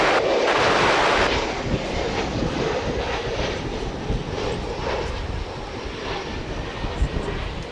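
Airliner arriving from Phoenix at DFW Airport, a broad rushing jet-engine roar that peaks at the start then settles into a steady whooshing drone, with some wind buffeting the microphone.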